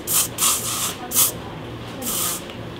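Hair spray misted onto styled hair during a makeup and updo session, several short hissing bursts in a row followed by a longer spray, close and fairly loud.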